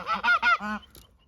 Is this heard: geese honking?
yes